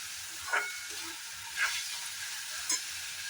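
Ginger-garlic paste and onion sautéing in a pan, a steady close sizzle with three brief scraping stirs at regular intervals, no talking.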